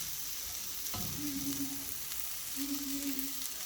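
Vegetables for Bahamian peas and rice sizzle steadily in a hot pan, with a sharp utensil knock near the start and two brief scraping stirs partway through; no one speaks.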